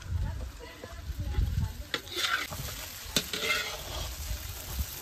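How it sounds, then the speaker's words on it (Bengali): Chicken curry stirred in a pot over the heat, with close, uneven scraping strokes and thuds over a bubbling sizzle, repeated spoon movements rising and falling in loudness. "একটা কাজ করো, 2 হাত দিয়ে নাড়া দাও"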